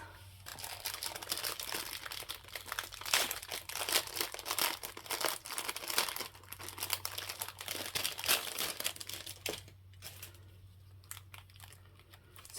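Crinkly plastic packaging and a cash-stuffing binder from Amazon are handled and unpacked up close, with continuous rustling and crumpling that grows sparser and quieter near the end, no talking.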